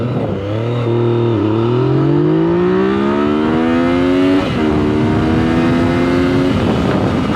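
A Yamaha MT-09 motorcycle with a Two Brothers full-system exhaust accelerates hard from standstill toward 100, its loud engine note climbing steadily through several rising gear pulls with brief dips at shifts, no talking.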